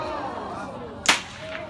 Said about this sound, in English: demonstrate on some ways how to crack a whip